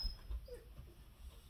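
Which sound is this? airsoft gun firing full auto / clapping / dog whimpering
dog whimpering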